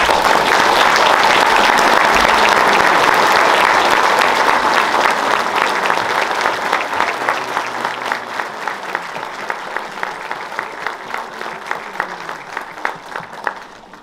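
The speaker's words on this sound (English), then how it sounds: "I think these kids and parents up here deserve a round of applause for all that hard work" A school choir concert audience applauding loudly for the children and parents, a dense roar at first that gradually thins into fewer, more distinct claps before fading out.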